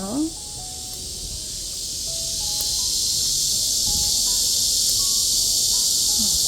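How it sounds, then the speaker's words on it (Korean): A loud, steady high-pitched drone of cicadas in midsummer fills the air continuously and swells slightly, with faint background sounds beneath. "매미 소리가 아주 맹렬합니다. 진짜 한여름이에요."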